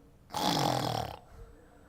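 A Korean preacher imitates a soldier snoring during a Sunday sermon, giving one loud, rasping snore of about a second that ends abruptly into near quiet.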